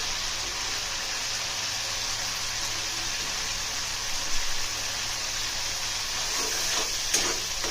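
Pangas fish with spices cooking down in a pan, giving a steady, close, hissing sizzle that runs throughout, with a few faint clinks near the end.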